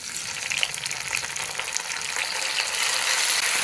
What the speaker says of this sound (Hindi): अब इसमें टमाटर डाल लेंगे, 2 अदद बारीक कटे हुए।